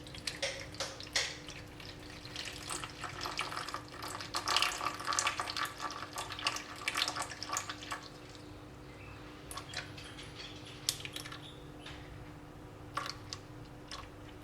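Tap water runs steadily into a sink during sourdough rye bread preparation, a continuous close splashing stream with a few sharper drips and clinks, no talking.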